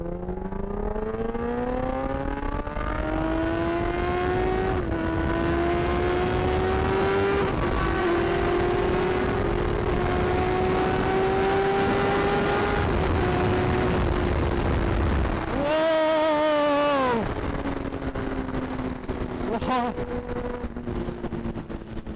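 Suzuki Hayabusa with fat tyres and a Brocks exhaust revs loud and close, its tone rising and holding through long pulls, then a sharp blip and dip before it settles into a steady drone again.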